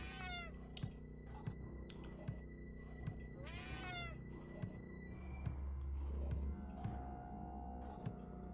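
A cat meows several times in the horror puzzle game Friday the 13th: Killer Puzzle, with clear rising-falling cries spread across the scene over a low steady hum and faint ticks.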